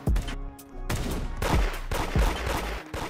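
Gunfire erupts in the Roblox game Da Hood during a raid, a rapid fusillade of loud, close shots in several bursts over a few seconds, with brief gaps between volleys.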